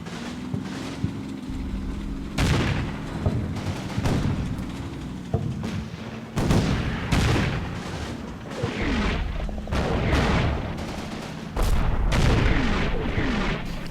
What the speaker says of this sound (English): You notice our fire mission hits at least where they were.